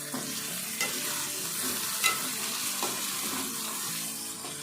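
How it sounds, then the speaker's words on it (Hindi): Half a kilo of boneless beef frying steadily in hot oil, a continuous close sizzle with a few stirring scrapes, no talk. "और गोश्त की भी अच्छी तरह भुनाई करेंगे इसमें"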